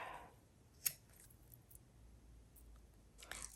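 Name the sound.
scissors cutting ribbon end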